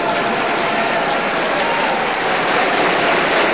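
An arena crowd at the 1987 World Junior Men's Curling championship breaks into sustained applause, a dense, even wash of clapping that holds steady and swells slightly toward the end.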